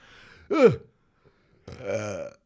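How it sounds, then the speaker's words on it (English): A single loud, close burp rises out of near silence, followed after a pause by a voiced, throaty sound. "We burp on here with carte blanche"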